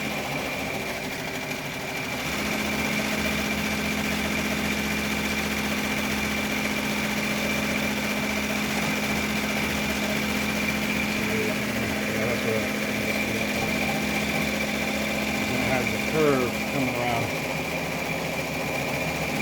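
An embroidery machine stitches satin stitches on flat fabric with a steady mechanical whir and a rapid needle rhythm that runs continuously at close range, with no pauses.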